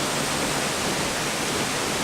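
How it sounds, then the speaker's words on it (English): A very tall, big waterfall in Bali pours in a dense, steady roar of rushing water, loud and close, with no other sounds breaking through. "And here we are, waterfall number 5."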